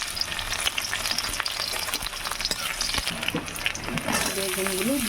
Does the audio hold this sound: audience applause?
no